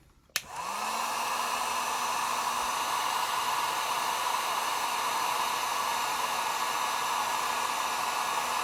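A heat gun on low heat, used to soften a collectible figure's accessory, switches on with a click and then holds a loud, steady blowing whoosh with a faint motor whine.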